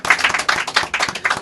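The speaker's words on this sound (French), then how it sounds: "Ça s'applaudit." Brief burst of clapping from a live audience at a Paris comedy show, a few rapid uneven claps close by without talk.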